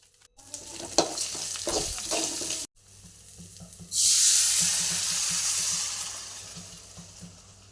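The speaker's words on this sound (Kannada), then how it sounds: "ಅಂಚನೆ ಒಗ್ಗರಣೆಗೆ ಬೇವುರದೊಟ್ಟಿಗೆ ಕೊತ್ತಂಬರಿ ಸೊಪ್ಪುಲ ಪಾಡುವೆ" Coriander and curry leaves drop into a hot tempering and burst into a loud, bright sizzle that gradually settles, following a stretch of stirring and clinking in the pan.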